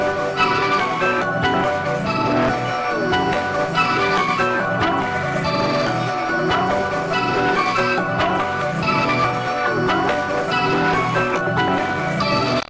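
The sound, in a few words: vocal chop beat with Cold Fire distortion effect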